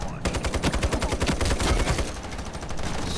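Rapid automatic gunfire from an SG rifle in a free-to-play first-person shooter, a dense rattling burst of shots loud and close for about two seconds, then continuing game noise with faint talk.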